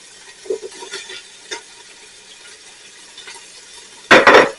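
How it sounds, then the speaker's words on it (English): Onions tipped into a hot pan with browned short ribs, quiet pan sizzle with scattered stirring clinks, then a sharp loud burst of sizzling near the end. "Now that our ribs are nice and brown, we're going to put our onions in that we did earlier."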